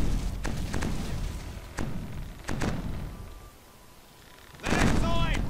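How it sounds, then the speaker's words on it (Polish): Cannons and explosions boom in the pirate naval-battle video game Age of Pirates 2, with several sharp blasts over a steady, rumbling battle din, ending in a loud burst of louder noise. "Ok, następne działo wybuchło."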